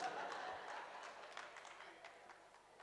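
An audience at a Jain birth-celebration festival at Chhavni Ji, Indore, applauds in a steady, close crowd clatter that slowly fades over a few seconds, with voices murmuring underneath.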